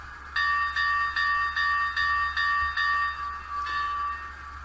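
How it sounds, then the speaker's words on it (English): Sound decoder bell on a Kato Union Pacific 844 model steam locomotive with Soundtraxx installed, ringing steadily in even repeated strokes, clear and close with no talk. "We'll start with the bell."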